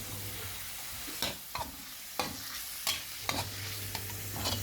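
Pork pieces stir-frying in a pan for holy basil stir-fry: a steady sizzle with a low hum underneath, broken by several sharp scrapes and clatters of the spatula at irregular intervals, close and moderately loud.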